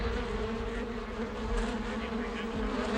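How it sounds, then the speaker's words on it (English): A swarm of African bees in Panama buzzes in a dense, steady drone, close and continuous with a low humming tone throughout and no talking. "Bee squads search and destroy African bees throughout Panama."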